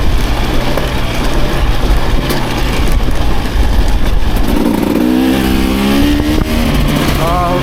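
A 2024 Husqvarna TE 300 two-stroke dirt bike engine, close and loud, droning at low revs and then climbing in pitch as the throttle opens, with wind noise throughout.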